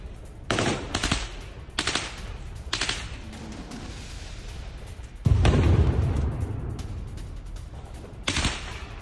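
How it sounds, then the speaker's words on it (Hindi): Gunfire rings out during fighting in Syria, with repeated machine-gun bursts and heavier booms over a constant roar, loud and somewhat distant, with no speech. "गन फाइट की आवाज सुनाई पड़ रही है"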